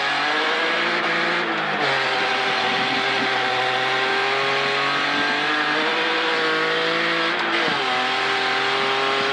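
A rally car engine accelerates hard during an ORLEN Lietuva Rally Cup 2025 stage, heard from inside the car. The loud, steady revving holds for the whole stretch, with gear changes breaking the pitch now and then.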